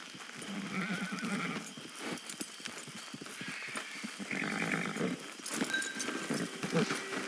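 Horse hooves clop steadily through a Red Dead Redemption Online camp, with a possible whinny near the end, against a busy, constant game ambience.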